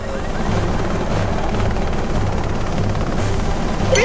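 A rescue helicopter's rotor in the game Choplifter HD thuds in a steady, loud pulsing chop, with a voice briefly speaking over it.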